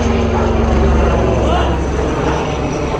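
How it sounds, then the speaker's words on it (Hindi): A low rotor engine drone fills the whole stretch, loud and steady as a helicopter passes close overhead. "ये हेलीकॉप्टर आ रहा है इसीलिए वो भौंक रहा है"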